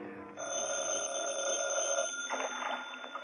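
A telephone bell rings in a 1950s-era old time radio detective drama, a steady continuous electric ring lasting about two seconds in a quiet office scene, followed by faint rustling handling sounds.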